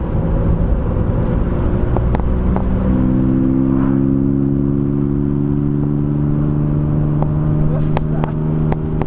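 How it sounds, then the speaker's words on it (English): A Volkswagen Up with a modified aftermarket exhaust drones steadily on a test drive, its engine note rising and holding through the whole stretch, with people talking over it. "now it's time to take the car on a little test drive."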